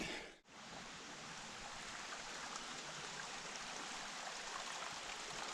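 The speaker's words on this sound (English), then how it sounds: "Little confluence of runoff streams, bit of blowdown." Small runoff streams meeting on an Adirondack High Peaks trail, giving a steady, soft, even rush of flowing water that continues unbroken with no voices.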